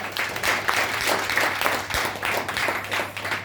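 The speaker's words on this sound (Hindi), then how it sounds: "उसके लिए ताली हो जाए." An audience claps at a product presentation, a steady, dense burst of many hands applauding close by, swelling and easing in waves without a break.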